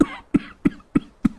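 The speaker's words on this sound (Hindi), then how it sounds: "जेठ और देवर धुएं से खांसते हुए" Two men cough from smoke around an open-air kitchen on a freezing night, five short sharp coughs in a quick, evenly spaced run, close and fairly loud, with no talking.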